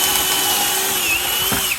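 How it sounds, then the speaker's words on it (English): A power drill fitted with a pocket-hole bit bores into 3/4 inch plywood, giving a loud, close, steady whine with a slight pitch wobble that cuts off abruptly at the end. "Drill a hole"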